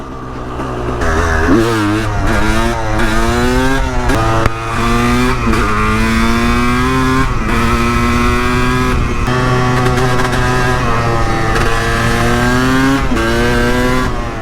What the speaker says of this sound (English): this bike is an absolute blast to ride now